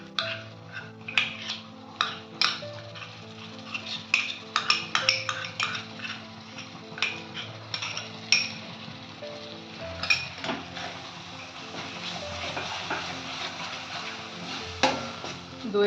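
Spiced yogurt mixture hitting a pan of Kashmiri dum aloo over low flame, sizzling steadily while a spoon scrapes and clinks against the pan in repeated close strokes.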